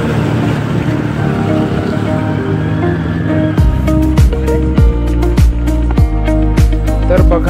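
A motorbike rides into flooded river water: a steady engine drone, then from midway a run of sharp, repeated splashing bursts as it pushes through the water.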